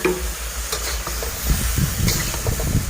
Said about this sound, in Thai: เสร็จแล้วใส่ผักปลังของเราลงไปค่ะ